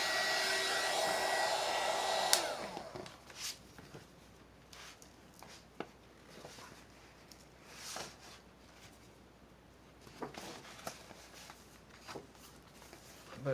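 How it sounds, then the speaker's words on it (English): A heat gun blows loudly on a paper collage made from a torn book for about two seconds, then cuts off, leaving quiet rustling and handling of paper. "put the dryer on there again. I mean, the heat gun."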